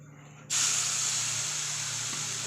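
Ginger-cumin paste hits a hot kadai with a sudden loud sizzle that starts abruptly and holds steady, a broad continuous hiss close up with no talking.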